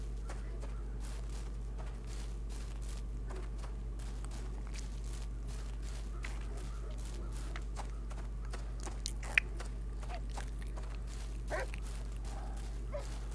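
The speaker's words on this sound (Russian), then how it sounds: "псина лает" A dog barks in the survival video game Will To Live Online: short, faint barks scattered over a constant low in-game hum, with a few soft footstep-like clicks.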